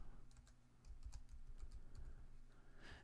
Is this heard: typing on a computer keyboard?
yes